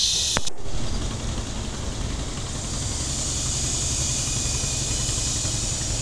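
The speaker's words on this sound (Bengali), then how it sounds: "ছোটো ছোটো ট্রলার চলছে, আপনারা দেখতে পাচ্ছেন।" A low, steady engine drone from a small trawler boat on the Turag River, Dhaka, runs throughout with a constant hiss, after one sharp click near the start.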